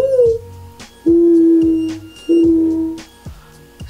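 A person imitates a dove call with the voice alone, no hands: a higher opening hum and then two softer, lower sustained hums, close and clear.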